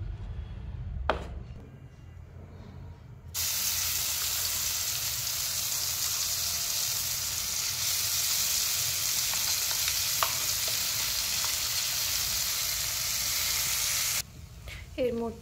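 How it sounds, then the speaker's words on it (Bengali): Green pea paste hits hot oil in a pan and sizzles loudly and steadily, after a brief quiet start with a stir, then drops off near the end. "এবার এটাকে তেলের মধ্যে দিয়ে দেব।"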